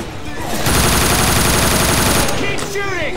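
Rapid automatic gunfire rattles loud and continuous in a Left 4 Dead 2 tank rush, with voices calling out as the burst fades.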